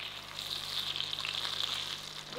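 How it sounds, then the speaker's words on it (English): Spring rolls fry in hot oil in a pot, giving a steady, close, crackling sizzle with dense popping throughout and no voices. "Ooh, sizzling."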